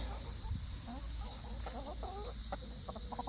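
Backyard chickens clucking at feeding time, a steady low chatter of short clucks and calls close by under constant background hiss.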